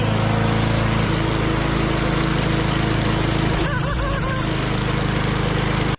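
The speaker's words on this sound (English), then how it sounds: "once it's running, it doesn't sound any different and it doesn't smell any different to a normal lawnmower" A small wood-gas powered lawnmower engine drones loudly and steadily nearby, a constant buzzing hum that cuts off abruptly at the end.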